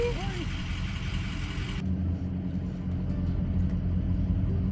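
A car rolls along on a three-hour road trip with a steady, close engine rumble and road noise throughout.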